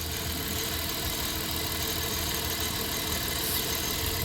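A 1997 Dodge Caravan LE engine idling on five cylinders with a bad lifter and the number 3 cylinder missing, a steady close rumble with a faint uneven knock throughout and no voices.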